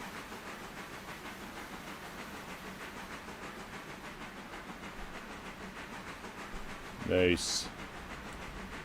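A steam locomotive in the railroad game Railroader rolls past with a steady hiss and rhythmic chuffing under quiet conditions, then a short burst of steam venting near the end; a voice briefly speaks.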